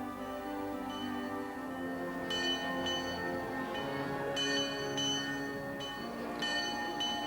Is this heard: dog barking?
no